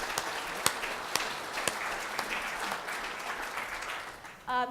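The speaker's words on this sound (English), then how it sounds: "So if we could give him a round of applause, that would be awesome." An audience at a public works event gives a round of applause, a steady, moderately quiet patter of many hands with a few sharper claps standing out, tapering off near the end.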